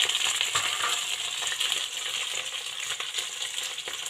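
Five or six pieces of potato drop into a cooking pot for mixed vegetable pulao, making a close, dense clatter over a steady sizzling hiss with no talk.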